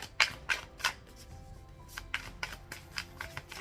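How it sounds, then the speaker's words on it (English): Tarot cards being shuffled close up, a series of crisp riffling bursts, three sharper ones early followed by quicker, lighter flicks, with no talking. "Let me shuffle."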